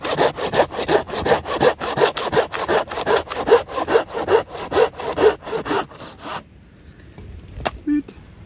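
A small hand saw cuts through bone-dry dead hardwood in quick, even back-and-forth strokes, rasping loudly and close for about six seconds before stopping, with a few faint knocks after.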